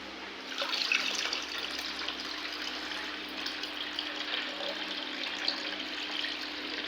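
Cold water from the fridge poured over cream skimmed from curd to wash it, for making homemade ghee; a steady, close rush of running water continues throughout, with no talking.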